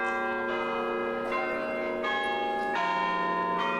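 Church bells in the Five Points neighborhood ring out on a Sunday morning, several strikes sounding in succession about every three quarters of a second, their tones layering into a sustained, reverberant ringing with no voices.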